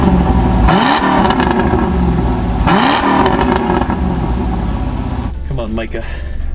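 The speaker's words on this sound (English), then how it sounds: "Oh, good launch of the BMW. Better than the Corvette." An old BMW and an old Corvette launch side by side in a drag race, with loud engine revving and two sharp bursts of acceleration, the sound easing near the end. Voices talk over the engines.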